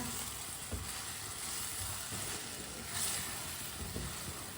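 Tomatoes cook in a pan over high heat, a steady, close sizzle with faint occasional stirring taps and no voices.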